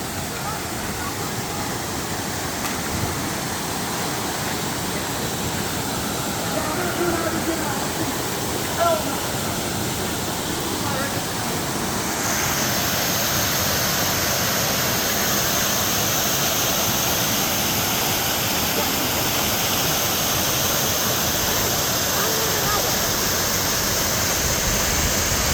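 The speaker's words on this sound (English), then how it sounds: "And this is a small waterfall" A small waterfall along the Road to Hana in Hawaii pours in a steady, broad roar that fills the whole stretch without a break, brightening slightly partway through.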